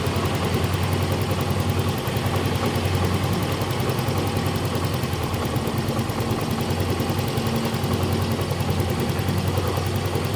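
Yamaha Mio Z scooter engine with a misfire and poor idle, running steadily at high revs for the whole stretch, a constant loud buzzing drone with no talk over it.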